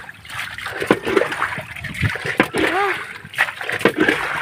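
Water splashing and sloshing into a leaking small wooden boat (bangka), with irregular splatters and drips up close, mixed with a person's voice and movement.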